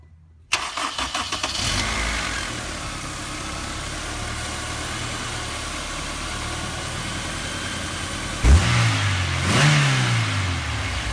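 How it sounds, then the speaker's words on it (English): Honda Ballade engine starting after a sports throttle body install: a short crank, a catch, then a steady idle, and near the end a brief rev rises and settles, close and loud, with no talk. "And then we can start the car."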